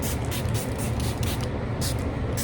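MAC setting spray misted from a small refill bottle, a run of short, close hissing bursts over a steady background hum.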